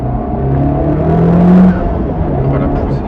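A Honda Civic Type R FK8 accelerates hard, its engine a loud, rising drone heard from inside the car, with the revs climbing steadily and a voice speaking over it.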